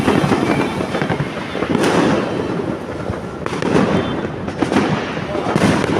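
New Year 2024 fireworks in the Philippines keep going in a dense, steady barrage of crackling bursts and booming reports, near and loud, with voices faintly audible underneath.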